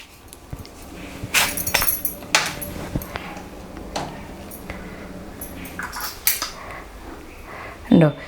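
A metal spoon scrapes and clinks against split, mature drumstick pods, scooping out the seeds in a series of short, close taps and scrapes spread across the clip.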